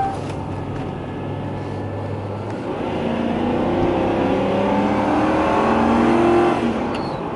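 A Lincoln limousine engine hums steadily from inside the car as it drives, with road and tyre rumble underneath. The pitch climbs gently as the car gathers speed, and the whole sound stays moderate and continuous.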